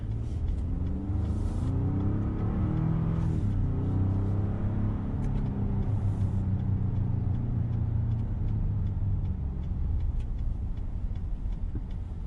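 A 2020 Ford F-150 Lariat Special Edition 4x4 pickup accelerates in second gear back up to highway speed. Its engine gives a steady, loud, rising rumble with light ticking on top and no talk.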